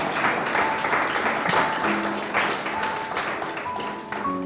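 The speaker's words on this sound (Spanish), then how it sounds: "Denle un aplauso al Señor, denle la gloria" Church congregation claps together steadily and fairly close, a dense patter of applause sustained throughout with faint tones beneath.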